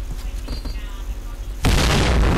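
Gunfire in the online shooter Point Blank: after a stretch of low in-game background rumble with faint sounds, a sudden loud burst of blasts hits and stays dense and booming.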